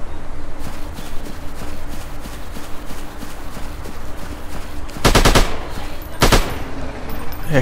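Rapid bursts of gunfire in a dinosaur hunting shooter game, a steady clatter of repeated shots with two louder, sharper volleys near the end, with no talk.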